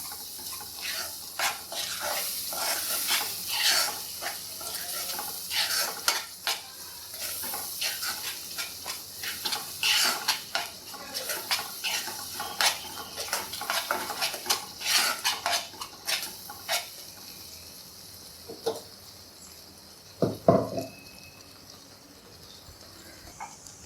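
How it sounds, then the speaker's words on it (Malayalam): A spoon scrapes and clinks against a pan in repeated strokes as thick masala is stirred, with a faint sizzle underneath and a louder clank near the end. "നല്ലപോലെ ഇളക്കി ഫുള്ളായിട്ട് ഒന്ന് ഇളക്കി കൊടുക്കാം"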